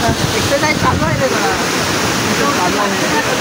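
A waterfall pours in a dense, continuous rushing roar, loud and close, with a person's voice faintly audible under the torrent.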